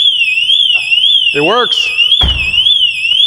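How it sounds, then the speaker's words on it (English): Porsche security alarm blaring loudly with a steady warbling siren tone, while people talk and make other noises over it. "Let's see if we'll get a security alert on this."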